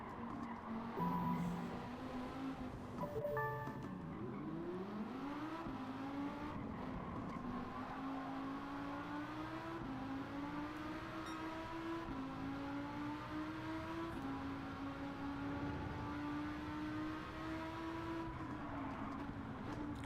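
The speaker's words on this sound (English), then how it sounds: "That's the Porsche 911 7-Up." A Porsche 911 engine in Gran Turismo 7 revs steadily through rising and falling gear pulls, with a brief squeal or shift burst early on, sounding close and continuous for the full stretch without talk.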